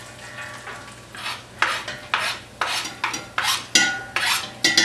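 Chopped onion tossed into a pan of hot olive oil for red sauce, crackling and sizzling in a run of sharp bursts, each flaring up and quickly settling, close and clear with no talking.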